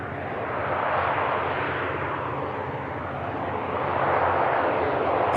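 A 17-year-old ATR turboprop airliner at Manchester Airport gives off a steady, broad engine roar that holds loud throughout and swells slightly toward the end, with no voices.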